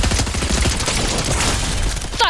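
A dense, continuous barrage of gunfire from Fortnite, loud and close throughout, with a rising synthetic sweep at the very end.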